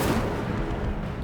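An Incendio fire spell cast in Hogwarts Legacy, a loud, dense whooshing burst with a low rumbling boom filling the whole second without a break.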